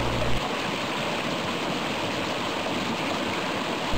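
Constant broadband rush of the Eubiose waterfall and rapids, loud and close, an unbroken roar of falling water with no voices.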